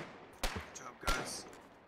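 Two distant gunshots in the war video game Foxhole, each a sharp crack with a short echoing tail, spaced about half a second apart over quiet background.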